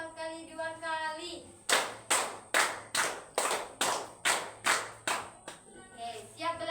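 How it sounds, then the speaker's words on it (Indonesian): Schoolchildren clap four times, pause, then four more, eight loud, evenly spaced claps framed by chanting children's voices. "Tepuk 4 kali 2 kali."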